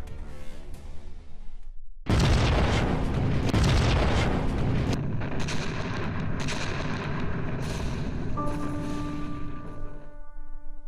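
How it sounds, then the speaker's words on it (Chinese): Krupp Paris Gun, the giant long-range Wilhelm gun of 1918, firing: a sudden heavy boom after a quiet lead-in, then a long rolling roar with further sharp blasts, ending in a sustained tonal hum. "三门威廉大炮从不同位置向巴黎共发射了300多发炮弹"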